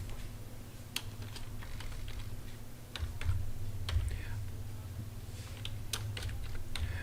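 A policy name is typed on a computer keyboard, bursts of close, crisp key clicks in an uneven rhythm over a low hum.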